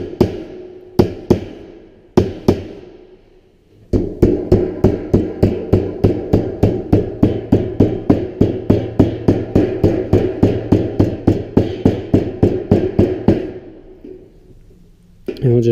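A slotted rod tapping the seam of a sheet metal 90 degree elbow, a few separate knocks then a long run of quick, evenly spaced metallic taps, close and fairly loud, ending with a pause.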